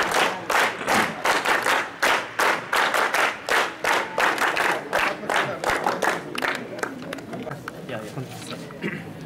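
Applause at a school scout induction ceremony, a crowd of students clapping in rapid uneven bursts that stay loud for several seconds, then thin out and fade toward the end.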